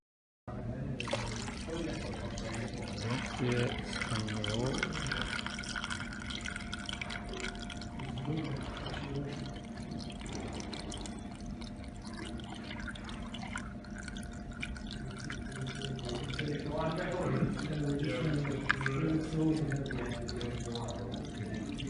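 Water pours and trickles steadily with dripping throughout behind a flood embankment under construction, while someone speaks briefly in the background.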